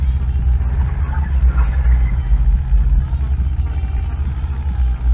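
Tractor engine running steadily close by during hay raking on a farm, a loud continuous low rumble filling the whole clip with faint voices in the background.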